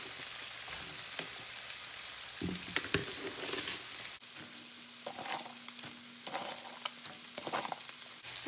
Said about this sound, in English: so in this pan, I'm just gonna fry up my cabbage here.